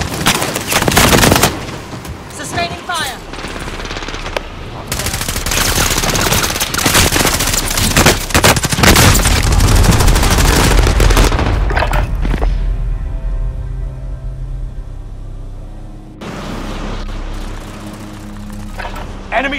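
Rapid bursts of automatic gunfire and single shots crackle loudly in a Call of Duty: Modern Warfare battle, dense volleys with thuds and crashes, easing into quieter game ambience near the end, with occasional voices underneath.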